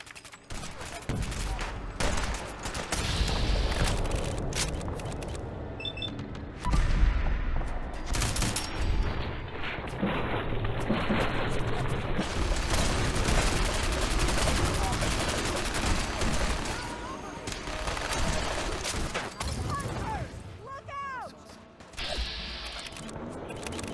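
Sustained gunfire during a Fallout 4 video game battle against Gulpers emerging from fog, with dense volleys of rifle and machine-gun shots and mechanical clatter, loud and continuous over nearly twenty-four seconds, with shouted voices mixed in.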